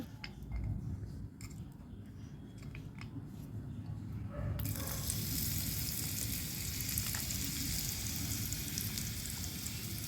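Sliced potatoes drop into hot oil in a pan, and after a few seconds of quieter kitchen scraping and clatter, a broad, steady sizzle takes over and carries on loudly to the end.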